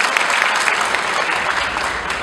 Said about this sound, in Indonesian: Tepukan yang berhormat.